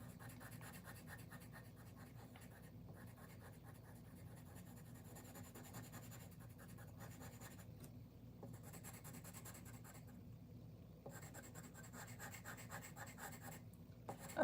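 A Montee pencil drawing a portrait scratches softly and continuously across paper, a faint dry rubbing with brief pauses and light strokes, close and quiet with no talking.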